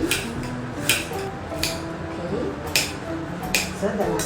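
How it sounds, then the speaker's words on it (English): A knife chops an onion into small pieces on a board while baked lobina is being prepared: about five crisp, separate strikes come at an uneven pace, close up over a low background murmur. "Okay, I'm chopping this last part, okay."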